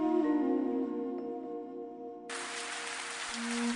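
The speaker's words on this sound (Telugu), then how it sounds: "వర్షం" Heavy rain as a devotional-story sound effect: a steady broad hiss begins midway and continues over a soft sustained musical drone, fairly quiet overall.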